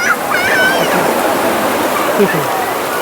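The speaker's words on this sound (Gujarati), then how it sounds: "અમારે સાક્ષી સોનાક્ષી બે જો દરિયાને નાહવાની મોજ કરે છે." Sea waves wash over a crowded shore at Koliyak during a Mahadev fair while children bathe. The rushing water is loud and continuous, with voices and faint shouts mixed into it.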